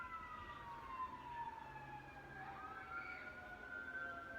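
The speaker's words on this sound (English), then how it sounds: "Sirens." A wailing emergency siren sweeps slowly up and down in pitch, sounding fairly distant and steady throughout over a low background rumble, with no talking.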